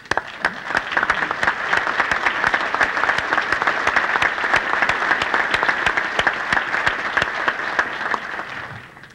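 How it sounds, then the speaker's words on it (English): An audience at a formal meeting gives a standing round of applause, dense steady clapping from many hands that holds loud and even for about nine seconds before tapering off at the end. "we will recognize you with a round of applause"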